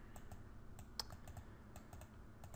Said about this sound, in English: Probably hearing a lot of clicking right now.